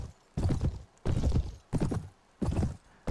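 Horse hooves pound rhythmically at night in the video game Mount & Blade Warband, heavy, close, evenly spaced thudding bursts of galloping with short gaps between strides.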